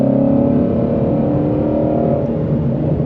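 The Voodoo flat-plane V8 of a Ford Mustang Shelby GT350R Heritage edition holds a loud, steady, raspy drone that is close and sustained, easing off slightly near the end.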